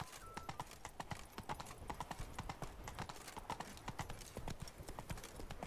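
Galloping horse hooves in The Witcher 3: Blood and Wine video game pound in a fast, dense rhythm close up, continuous throughout and quite prominent over background game ambience.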